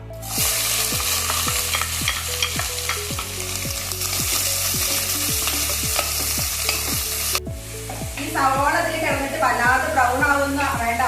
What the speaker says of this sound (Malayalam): ഇതിലേക്ക് ഇനി രണ്ട് സവോള പൊടിയായിട്ട് അരിഞ്ഞിട്ട് കൊടുക്കാം